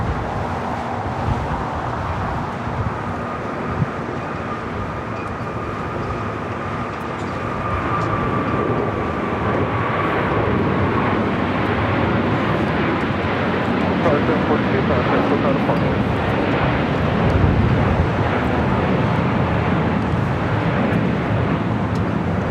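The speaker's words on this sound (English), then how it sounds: "This is Qatar Airways 742 taking off to Doha on the A350 1000." Qatar Airways Airbus A350-1000 departing LAX, a broad steady engine roar that builds and grows louder through the takeoff roll, with a faint rising whine and background talk.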